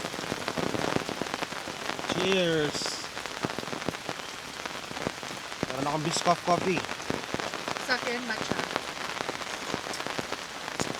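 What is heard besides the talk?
rain falling at mountain campsite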